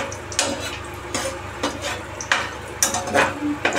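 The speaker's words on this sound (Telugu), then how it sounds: "ఇలా కొంచెం గోల్డెన్ షేడ్ వచ్చేంత వరకు వేయించుకొని" Dry fruits fry in ghee in a pan with a soft, steady sizzle, broken by regular scraping and clinking of a spoon stirring against the metal.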